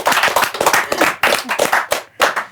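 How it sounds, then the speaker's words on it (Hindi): An audience breaks into loud, close applause, with quick rhythmic clapping that halts and restarts in a couple of bursts, and no talking over it. "एक बार जोरदार तालियां"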